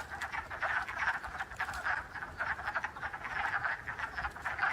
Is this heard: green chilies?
no